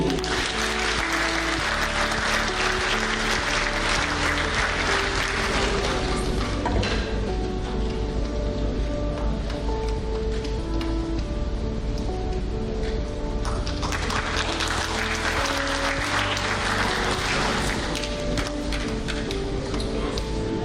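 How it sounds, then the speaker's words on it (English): Loud, sustained applause from a large crowd, swelling in two strong waves over a steady background hum. "And now, for the 1st place, we applaud Miss Iman Khan"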